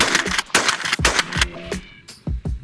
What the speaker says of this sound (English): Let's take a few shots.